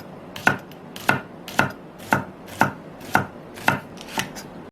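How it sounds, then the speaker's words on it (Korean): Green onion sliced with a knife on a cutting board, eight evenly spaced sharp chops in a steady rhythm, close and clear with no talk. "대파는 송송 썰어주세요."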